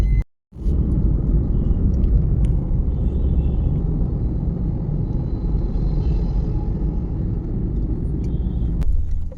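A freshly serviced Maruti Swift drives along, giving a steady low engine and road rumble that runs continuously after a brief gap at the start, with no talk over it.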